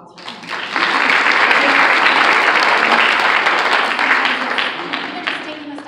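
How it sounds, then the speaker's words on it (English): Loud, sustained audience applause at a town-hall style listening event, a dense wash of many hands clapping that swells within the first second and holds steady before easing slightly at the end. "Let's give everyone a little round of applause for that."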